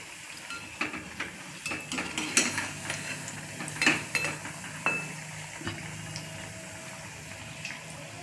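Fried kothimbir vadi, crisp coriander fritters, being lifted from the pan and set onto a dish, with scattered clinks and light scraping of utensils at a quiet, close distance and no talking.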